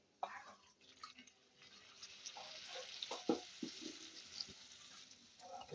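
Water poured into spice masala frying in a pan for a Gujarati drumstick besan curry, giving a soft, steady sizzle with faint bubbling and stirring scrapes, fairly quiet throughout.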